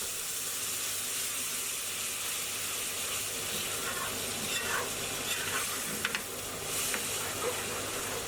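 Chicken madras curry with base gravy and chopped coriander stalks sizzles hot in a pan while a utensil stirs and scrapes the base and edges, a continuous close hiss broken by irregular scraping clicks, without speech.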